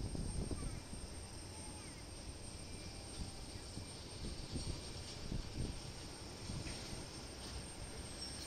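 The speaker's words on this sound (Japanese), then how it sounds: "テイクオフクリアが出て 加速をし始めました" A distant airliner at Osaka Itami Airport builds a steady, broad engine roar as it accelerates for takeoff, faint and constant throughout with no talk.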